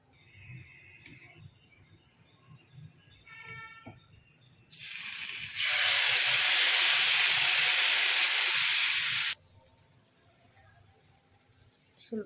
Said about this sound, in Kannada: ಇದಕ್ಕೆ ನಾವು ಇವಾಗ ದೋಸೆ ಬ್ಯಾಟರ್ನ ಹಾಕ್ಕೊಳ್ಳೋಣ